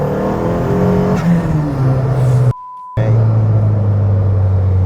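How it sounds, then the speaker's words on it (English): A turbocharged Vauxhall Corsa engine revs hard in second gear with tyres spinning and scrabbling, cuts out briefly, then roars back with a deep, sustained loud drone. "That was wheel spin at 50."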